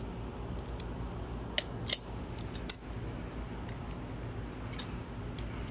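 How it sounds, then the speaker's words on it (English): Material is snipped while a Kia Sedona rear strut is being replaced, giving a few sharp, close clicks and cuts over a steady low background hum, with no talking. "Oops, let me cut this out."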